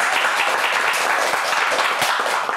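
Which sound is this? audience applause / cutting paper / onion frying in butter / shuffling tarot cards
audience applause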